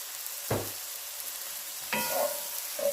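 Vegetables sizzle steadily in a pan, and a couple of scraping stirs and clinks of a utensil break through the frying hiss.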